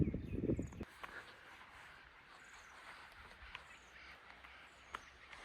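Distant bird calls and caws ring out sporadically over quiet outdoor ambience in the Seychelles, following a brief rustle at the start.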